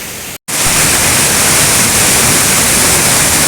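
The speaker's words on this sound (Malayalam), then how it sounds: "ഇവിടെ ഉള്ളത് ചെറുതും വലുതുമായ ഒരുപാട് വെള്ളച്ചാട്ടങ്ങളാണ് ഉള്ളത്" Waterfall at Urulikkund in Kannur, a steady loud broadband roar of falling water that cuts out for a split second near the start and then continues unbroken.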